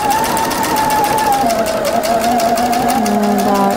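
Close and loud, a sewing machine whirs steadily as it backstitches a knit jumpsuit seam, with a gliding motor pitch that shifts slightly through the short run.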